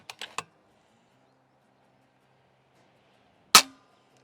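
An FX Panthera airgun firing a slug outdoors: sharp reports, two quick clicks and a crack at the start, then silence, then one loud crack with a short tail.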